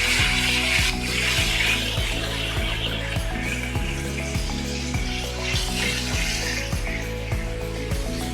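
Steady, close sizzling and spitting of bacon frying in a pan, with a dense crackle running throughout and no voices.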